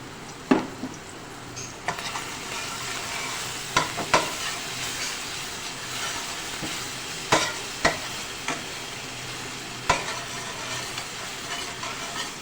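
Garlic-ginger paste sizzling and hissing in a hot pan for dhaba-style daal mash, with a spoon scraping and stirring in irregular strokes, steady frying noise throughout, no voices.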